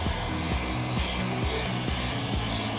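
Heat gun blowing a steady stream of hot air over pastry, a continuous close whooshing hiss with a faint motor hum, alone without talk.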